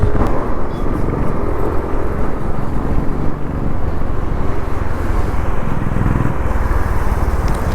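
Continuous road traffic and engine rumble heard from a Yamaha Aerox 155 scooter ride from Mumbai to Jawhar in the monsoon, a steady loud wash of wind and passing vehicles throughout with no break.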